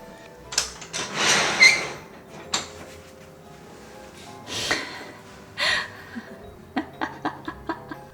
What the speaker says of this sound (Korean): 이게 슬라이드로 되어 있어가지고 쓰다 보니까 약간 삐걱삐걱 하더라고